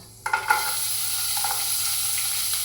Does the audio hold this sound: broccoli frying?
yes